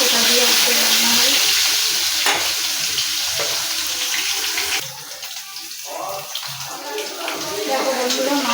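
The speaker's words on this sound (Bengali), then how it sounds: "তেল গরম হয়ে গেছে। মাছগুলো দিয়ে দিই" Fish sizzling loudly in hot oil in a home kitchen, a steady dense hiss and crackle throughout with brief stirring or splashing noises and a voice speaking faintly underneath.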